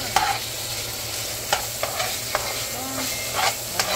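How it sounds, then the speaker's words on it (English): Ground beef fries and is stirred in a pan, with a steady close sizzle broken by several sharp scrapes and clinks of the utensil against the pan. "I have to keep mix it until my ground beef cook"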